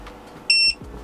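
A single short electronic beep from a 12V Coolavan air conditioner in a camper van, clear and fairly loud over a quiet room hum.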